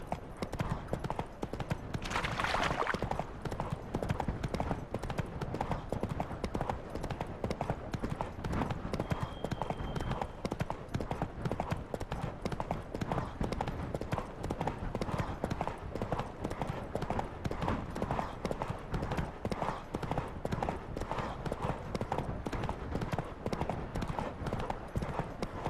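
A horse gallops in The Witcher 3: Wild Hunt, its hooves beating out a fast, steady, rhythmic clatter that runs unbroken and fairly loud. A brief rider's shout or whinny stands out early.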